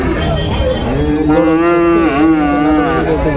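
A young Jersey calf at a livestock market moos loudly and steadily for a few seconds, one drawn-out call with a rising and falling pitch, close by.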